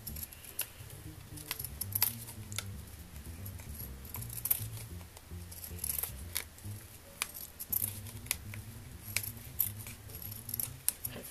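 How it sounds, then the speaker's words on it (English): Craft scissors snipping through fabric at close range, a quick irregular series of sharp metallic clicks and soft cuts over a low background hum, with no talking. "Cutting fabrics, making my craft scissors work very hard."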